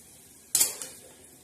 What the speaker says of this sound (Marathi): मस्तपैकी छान असं आता हे हलवून घ्यायचं